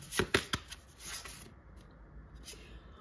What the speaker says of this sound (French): Attendez, on va mélanger.